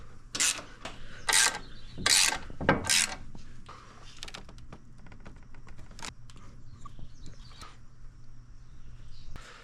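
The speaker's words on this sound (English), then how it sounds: "Once they're all started by hand, then you can go ahead and tighten them all down." Ratchet tightening black bolts on a winch bumper for a 2025 Pro R 6000 lb winch, several close bursts of rapid clicking strokes followed by quieter scattered clicks and metal handling.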